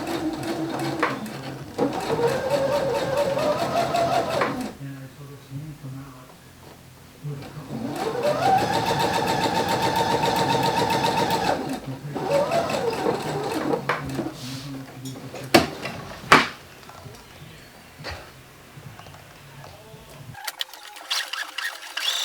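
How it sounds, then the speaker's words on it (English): A sewing machine stitches the side seams of a homemade hoodie at a quarter-inch allowance, running in several steady bursts of whirring with short pauses between, close and fairly loud. "Now we're gonna sew the sides together."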